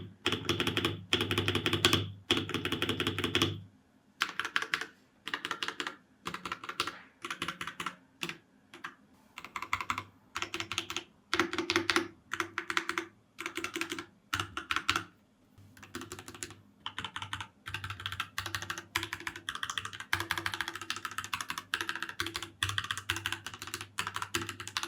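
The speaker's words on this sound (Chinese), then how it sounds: "我们先复习一下 RK84 的声音。" Typing on an RK84 mechanical keyboard, rapid bursts of crisp, close key clacks with brief pauses between runs, heard alone.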